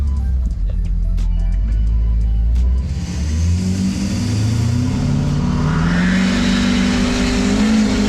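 A tuned Ford F250 truck launches hard, its engine revving up loudly and climbing in pitch as it pulls away, a steady powerful roar filling the whole stretch with no talk over it.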